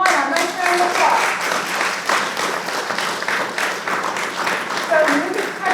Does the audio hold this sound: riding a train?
no